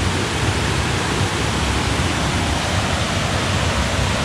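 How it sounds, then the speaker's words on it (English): Erawan waterfall in Kanchanaburi, Thailand, pours in a dense, steady roar of rushing water, close and loud throughout with no voices. "So this is the first series of the waterfalls."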